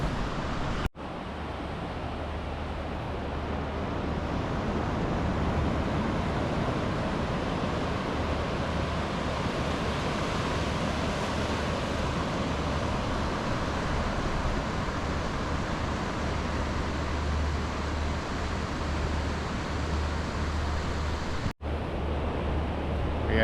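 Ocean surf rolls onto a beach in Zambales, a steady broad wash of waves with wind buffeting the microphone, continuous and fairly loud with no break in the roar.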